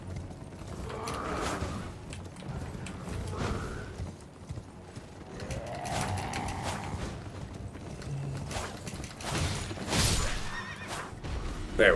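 Horse in the video game Elden Ring neighing and whinnying several times amid clip-clopping hooves and combat clatter, moderately faint in a busy game mix.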